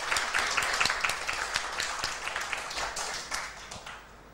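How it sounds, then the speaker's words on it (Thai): Students in a Thai science classroom clap for a classmate, a moderate burst of hand clapping that starts full and gradually thins and fades out toward the end. "ปรบมือให้เพื่อนเลย"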